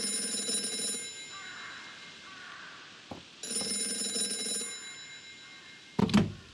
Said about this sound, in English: That phone is about to ring.